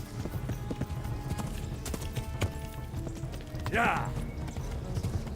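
Rhythmic hoofbeats clip-clop steadily as a horse gallops in the game Kingdom Come: Deliverance, with a brief whinny partway through, game ambience underneath and a short spoken word.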